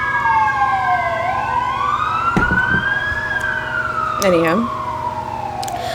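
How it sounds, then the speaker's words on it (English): Emergency vehicle sirens wail and sweep in pitch as they pass outside, loud and steady throughout with brief horn-like blasts, while a person speaks briefly over them. "Sorry for the sirens."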